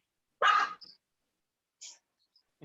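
A pet dog barks indoors, one loud close bark followed by a softer huff and a second short bark after a pause, with no talk over it.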